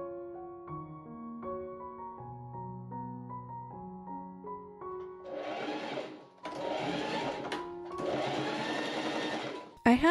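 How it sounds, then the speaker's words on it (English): A sewing machine stitches a seam on a corset hoodie in several bursts of whirring after a stretch of quieter, tonal background sound, with brief pauses between runs. "so I machine stitched that seam up"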